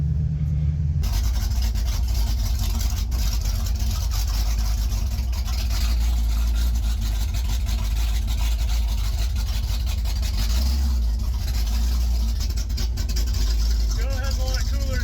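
Heavy low rumble of an old 1972 Ford drag car engine running steadily while driving, loud and continuous, with some road and wind noise and occasional talk over it.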